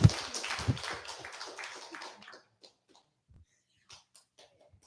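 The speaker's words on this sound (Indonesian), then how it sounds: "kita beri tepuk tangan dulu untuk para kandidat" Applause for the candidates at a live debate for the Ikaman president in Jakarta: a dense burst of clapping that starts loud, thins out and fades to a few scattered claps within about two seconds.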